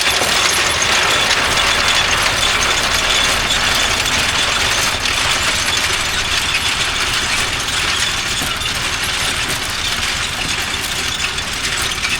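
A potato digger runs in the field during harvest, a continuous rattling, clanking mechanical churn with a steady ratchet-like clatter and engine drone, loud and unbroken.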